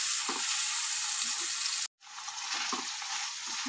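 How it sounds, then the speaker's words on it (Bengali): Poppy seed and green chili paste being stirred into frying potatoes for aloo posto, with a steady close sizzle and soft scraping stirs, broken by a brief silent gap midway. "আমি পোস্ত আর কাঁচা লঙ্কা বেটে রেখেছি এটা দিয়ে দেবো দিয়ে একটু নাড়িয়ে"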